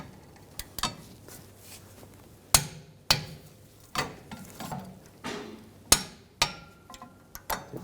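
Brake caliper bolts on a 2007–2013 BMW 328i rear brake being tightened down with a hand tool, giving sharp metallic clicks and knocks at an irregular, spaced-out rhythm, close and fairly loud, with no talking.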